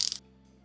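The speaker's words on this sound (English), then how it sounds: "It rotates unidirectionally, and the ratcheting action is good and crisp." A stainless steel dive watch bezel ratchets as it turns, giving a crisp burst of close, tiny metallic clicks that stops abruptly and leaves near silence.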